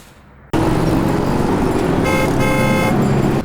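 A car horn blares suddenly and stays loud and continuous for about three seconds over engine and road noise, starting after a brief quiet moment.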